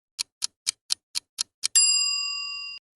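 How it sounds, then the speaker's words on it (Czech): A phone rings alone and close up: seven short, evenly spaced bright electronic pulses, then one long sustained tone that slowly fades. "Which phone is ringing?"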